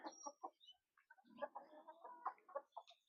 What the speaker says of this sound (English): I'll check the chickens down this side first of all.